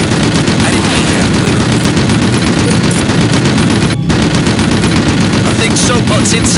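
Dense, continuous automatic gunfire in the first-person shooter Red Faction II, loud throughout with rapid bursts, overlapping shots and a sharp blast near the middle, while voices speak over the shooting.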